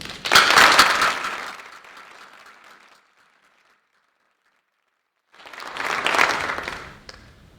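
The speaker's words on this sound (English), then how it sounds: "So a round of applause to the class of 2020." A crowd at a Class of 2020 graduation ceremony claps loudly for about two seconds and the applause fades to silence. After a pause, a second round of clapping swells up again.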